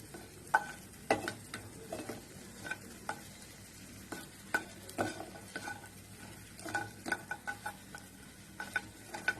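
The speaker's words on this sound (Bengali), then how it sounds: "বড়িগুলো ভাজা হয়ে গেছে" Lentil bori dumplings fry in oil in a kadai over a medium flame, a steady soft sizzle broken by frequent sharp clinks and scrapes of a spatula stirring them, with no voices.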